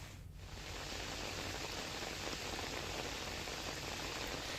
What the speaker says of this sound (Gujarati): પાવાગઢ ડુંગર ઉપર મુશળધાર વરસાદ વરસ્યો